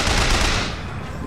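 Dense automatic gunfire pours onto the player in Bioshock Infinite as a loud, continuous rattling burst that fades slightly over about a second.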